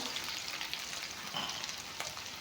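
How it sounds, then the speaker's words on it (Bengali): Onions fry in a pan of hot oil for mutton curry, a dense, continuous close sizzle with faint crackles and light stirring and no voices. "এতিয়া পিঁয়াজ নহৰুখিনি অলপমান ভাজি ল'লোঁ"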